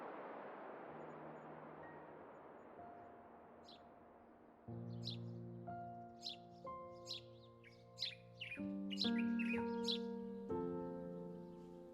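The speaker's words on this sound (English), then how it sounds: "As we witness the birds preparing for the oncoming night" Several birds chirp and tweet at dusk in a Moroccan garden, quick scattered calls over soft sustained musical tones, the chirps growing busier toward the end.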